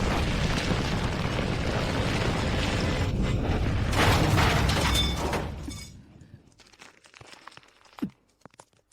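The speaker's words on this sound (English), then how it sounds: "What was that explosion?" A heavy explosion roars loud and sustained for several seconds, a broad rumbling blast that then drops away into quieter debris-like clatter and scattered sharp cracks.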